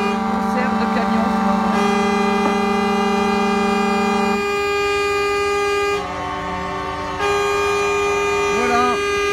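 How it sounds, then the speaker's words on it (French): Trucks sound a concert of sustained, blaring air horns at a drivers' protest, several loud overlapping tones holding and shifting pitch continuously, with the occasional rising wail mixed in. "Merci, concert de klaxon. Concert de camion."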